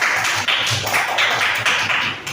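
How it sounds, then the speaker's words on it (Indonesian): Quick run of hand claps from a class of primary school children in a sports lesson, applauding a classmate. The brisk, uneven rhythm rings out fairly loud and close for a couple of seconds. "Tepuk tangan dulu buat Julpa."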